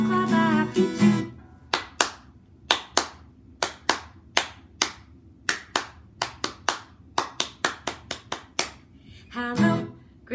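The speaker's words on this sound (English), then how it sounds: "Let's clap a happy tune." Grade 3 children clap a rhythmic tune during a school music lesson, sharp handclaps in steady patterned bursts, with brief singing at the start and end.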